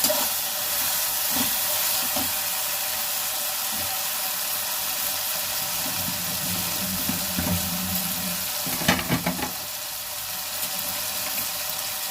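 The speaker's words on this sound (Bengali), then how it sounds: "একটু আদা রসুনটা ভালো করে কষিয়ে নেব, নিয়ে মাংসটা তুলে দেবো।" Ginger and garlic frying in a pan for home-style biryani, a steady, loud hiss and sizzle running throughout, with a brief burst of clattering stirring near the end.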